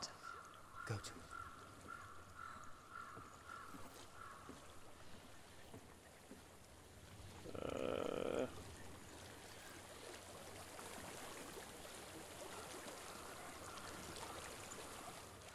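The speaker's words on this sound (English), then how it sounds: "I hear water. Go to it." Flowing stream water in the video game Hellblade, a faint, steady rushing wash that runs the whole time, with a brief louder burst midway and voices speaking over it.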